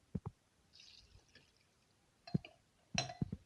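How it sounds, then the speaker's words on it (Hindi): Water from two glasses is poured into a cooking pot for a beef trotters dish, with short splashy pours and drips at the start and end separated by a quiet gap. "ये 2 गिलास मेरे पास पानी के हैं, ये हम शामिल करेंगे।"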